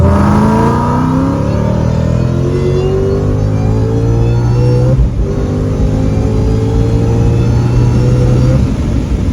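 Two cars, a V8 Ford Mustang and a tuned diesel BMW, accelerate hard in third gear from 60, a loud continuous engine roar with rising revs sweeping upward together, close and steady throughout with no talk.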